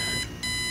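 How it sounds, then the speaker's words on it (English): An alarm clock beeping, a bright electronic tone that cuts out briefly and then resumes, faint and alone with no voices. "Why was my alarm clock set for so early?"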